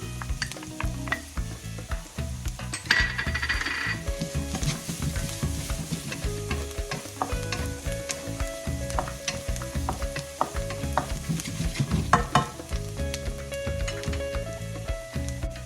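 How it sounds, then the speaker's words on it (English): Chopped onions and garlic sautéing in olive oil over low-medium heat, with busy stirring scrapes and a few utensil clinks against the pan over a steady sizzle, with music underneath. "add a tablespoon of olive oil and the chopped onions and sauté it on low-medium heat for about 1 to 2 minutes"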